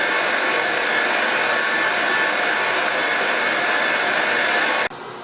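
An electric mixer whirs through pound cake batter in a steady, loud, close motor hum that stops abruptly near the end.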